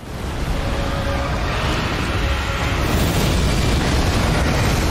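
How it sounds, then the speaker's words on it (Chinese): A huge roaring blast from an Elden Ring boss fight against the Ulcerated Tree Spirit, a dense, sustained rumbling eruption that swells and stays loud throughout, with no voices over it. "呢个大爆炸啊！"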